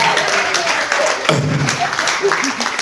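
Live crowd at a speech event at Merrydale Manor applauds for a couple of seconds, a steady dense wash of clapping with a few voices rising through it.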